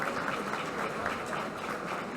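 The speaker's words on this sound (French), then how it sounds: "là, ils applaudissent, je pense que c'est la fin du speech des judges" An audience applauds at a Lorcana card tournament as the judges finish their speech, a steady, even wash of clapping that holds throughout with no clear break.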